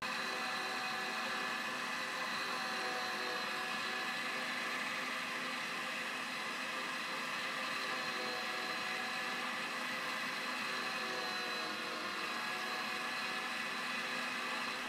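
Electric meat grinder running steadily while grinding venison for burgers, a constant close motor whine and hum with no change in pitch or level across the whole stretch.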